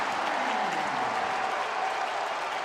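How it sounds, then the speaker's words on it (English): Basketball crowd at an Iowa State vs WSU tournament game in Omaha erupts after a made three-pointer, a loud sustained roar of cheers and applause throughout. "and the crowd erupts"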